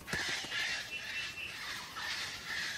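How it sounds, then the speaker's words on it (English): A female eclectus parrot in an Australian forest gives harsh, raspy screams in repeated bursts, fairly near, with no voices present. "It screams at other birds, especially females keep away, this hollow is occupied"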